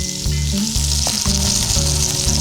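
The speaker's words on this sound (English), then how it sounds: "Into our pan, let that sizzle away." Shallots and garlic sizzle and crackle steadily in a hot pan, loud and close, under a constant low hum.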